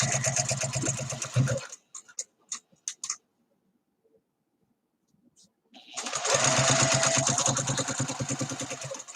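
A sewing machine stitches a seam on a garment band in two loud, steady runs of rapid mechanical chatter, separated by a few seconds of short clicks and near-silence.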